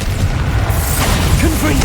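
Bombarda spell explosion in Hogwarts Legacy, a loud, dense, booming burst that fills the whole short stretch with sustained roar and crackle.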